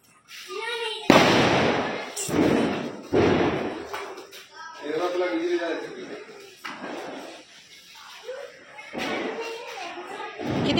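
Diwali firecrackers burst in sharp, loud bangs at irregular intervals outdoors, with children and adults talking and shouting excitedly between and over the blasts.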